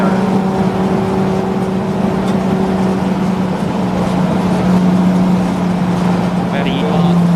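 Golf TDI and TT TFSI race cars run at Snetterton during a Turismo race, giving a steady, loud engine drone with a sustained low hum that holds throughout and rises slightly near the end.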